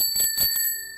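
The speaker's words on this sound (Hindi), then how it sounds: "तभी नीलेश को अचानक ही पीछे साइकिल की घंटी सुनाई दी।" A bicycle bell rings with a bright metallic trill of quick repeated strikes, loud and close, then fades into a lingering ring.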